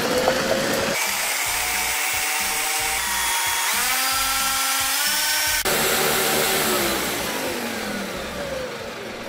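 Blender grinding a marinade for pork filling on low speed, a loud continuous motor whir with a shifting pitch as the contents break down, running alone for the whole stretch.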